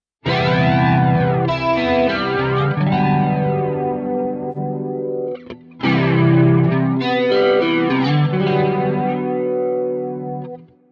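Quad Cortex flanger with positive polarity on a sustained guitar, a continuous swept, distorted tone with sweeping harmonics, played alone in two long phrases separated by a brief drop.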